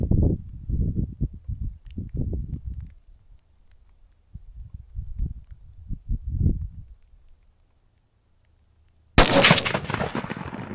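A single loud rifle shot from a Ruger Gunsite Scout rifle at an outdoor range cracks out near the end, following a stretch of quiet outdoor ambience with soft movement noises.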